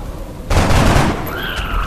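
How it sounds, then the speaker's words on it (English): A sudden loud blast of a car exploding in the video game XCOM: Enemy Unknown bursts in and rumbles out over a second, followed by fading crackle and a high whining tone, with no talking. "The explosion from the car doesn't reach very far."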